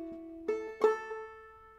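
Clawhammer banjo picks a Cumberland Gap phrase alone, a few bright plucked notes with a slide up on the first string, ringing and decaying close and clear.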